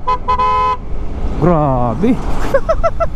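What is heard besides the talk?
truck overtaking on highway, horn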